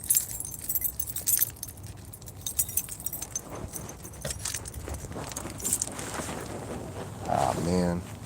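Car keys jangle in short metallic bursts across the clip, mixed with rustling and handling noise from someone locked out of a car.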